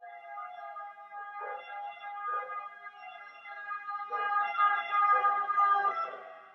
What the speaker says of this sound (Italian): In effetti l'ambulanza che passa era un chiaro segnale